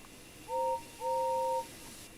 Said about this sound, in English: As James arrived at the station, he suddenly heard a familiar whistle.